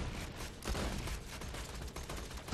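Sustained gunfire in the first-person shooter game Borderlands 2, a dense, loud, continuous volley of rapid shots with heavy low rumble, no voices present.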